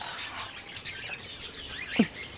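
Birds kept at an avian and exotic bird farm chirp and tweet in quick, scattered high calls, with one louder call near the end, fairly close and with no talking.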